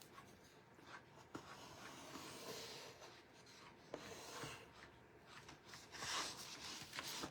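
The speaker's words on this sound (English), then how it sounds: "You might want to file off your edges now." Someone steadily rasps a file back and forth along the edges of a homemade paper notepad, a soft, close scraping with irregular strokes and a few light knocks, no talking.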